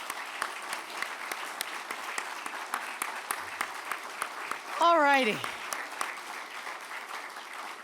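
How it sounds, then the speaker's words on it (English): Sustained applause from a crowd at a formal press club inauguration dinner, steady dense clapping throughout, with a voice speaking briefly partway through. "If we could just do one more round of applause"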